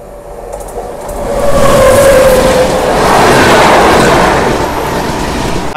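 AP Express, the Visakhapatnam–New Delhi train, rolls past close by with a loud swelling rumble and rhythmic wheel clatter that builds to a peak, holds, then eases slightly.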